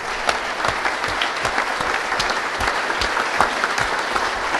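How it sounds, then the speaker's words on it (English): Audience at a Techwire forum with a state corrections agency CIO stands and claps in a steady, moderately loud round of applause, sustained throughout with individual claps audible in the mix. "Please stand and just give an applause for Paul."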